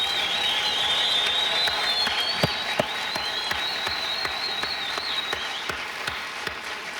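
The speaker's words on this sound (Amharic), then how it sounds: "ሞቅ ባለ ጭብጨባና እልልታ እናመሰግነው ዘንድ በትህትና ጠይቃለሁ" Warm applause fills an awards-ceremony hall at the 11th Gumma Awards, with high trilling ululation from the audience riding above steady clapping and a few sharper claps throughout.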